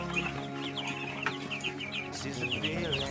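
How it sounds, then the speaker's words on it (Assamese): A crowd of about two hundred Sonali and Kuroiler chicks on a small farm peep continuously, with high overlapping chirps packed close together and a low background hum beneath. "কয়লাৰ আৰু সোণালীৰ কুকুৰাৰ পোৱালি।"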